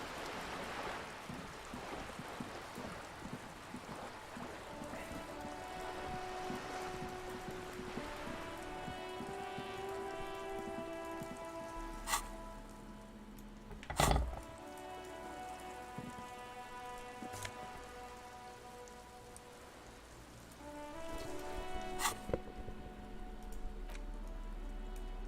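Steady rain falling in the video game Disco Elysium, a soft continuous patter of drops with scattered sharp ticks and a faint tonal musical layer beneath, no speech over it.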